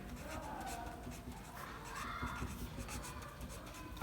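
Pen scratching steadily on paper while accounting entries are written out, close and fairly quiet, with no talking during the strokes.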